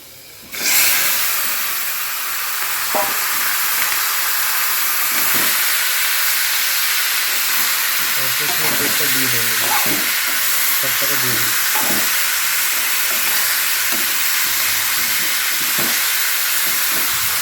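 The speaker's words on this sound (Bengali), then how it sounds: "এটাকে আমি এবার ভালো করে কষিয়ে নেব" A spiced mixture hits a pan of fried potatoes in oil and erupts into a loud, sudden sizzle that settles into a continuous hiss, broken by occasional scraping and clinking of stirring.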